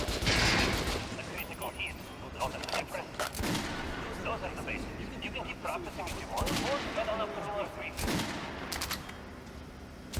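Rapid gunfire crackles in repeated bursts in the Metro: Last Light Redux video game, with someone talking over the shooting throughout.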